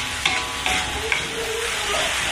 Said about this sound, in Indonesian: Oke, bumbunya udah selesai ditumis